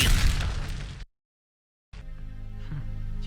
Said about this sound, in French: Pour la peine, hop, la petite grenade.